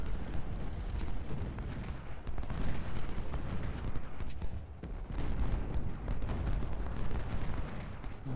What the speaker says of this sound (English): Guns are going to open up